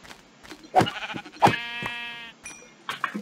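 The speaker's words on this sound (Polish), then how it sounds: "Mam tu owce. Mam czasem lagi z owcami." Sheep in the Minecraft video game bleat in a few short, nasal calls spaced across a couple of seconds, fairly close and clear with no talking over them.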